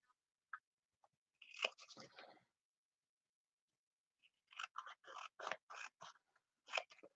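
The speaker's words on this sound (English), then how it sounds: "now I'm just going to trim this off" Scissors trim paper in close, crisp snips: a few isolated cuts, a quick run of crunching snips, a pause, then a second rhythmic series of cuts, with no talking.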